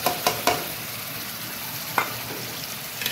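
A yogurt spice paste with chili flakes hits hot oil in a pan, giving a steady close sizzle and hiss, with a few sharp utensil clinks and stirring knocks.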